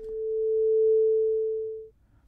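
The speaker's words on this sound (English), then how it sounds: "Something quickly fading in and quickly fading out." A steady pure sine tone swells up smoothly over about a second and then tapers back down before cutting out, heard alone with no other sound.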